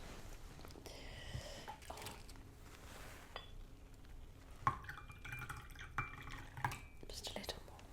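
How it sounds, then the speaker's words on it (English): Tea poured from a pot into a cup during a quiet, soft-spoken tea setting, with faint trickling, occasional drips and light clinks of china, close and delicate, with a soft voice murmuring at times. "I'm just going to pour myself some more tea."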